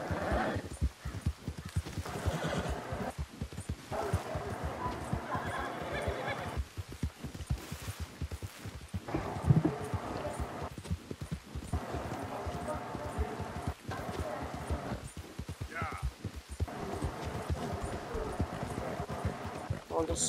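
Steady clip-clop of horse hooves in Red Dead runs throughout with occasional whinnies, while a person talks over the top at times.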